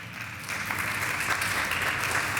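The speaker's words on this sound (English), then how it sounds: "Okay, you can clap for that." Audience at an evening Torah talk breaking into applause, a steady wash of many hands clapping that swells and holds, heard from a moderate distance.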